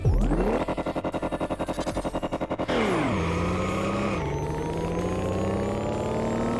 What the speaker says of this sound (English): we can take this thing into the open world and just take a listen to this car